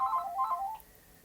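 Telephone ringing indoors, a quick warbling electronic ring in two short bursts, fairly faint and alone, then silence.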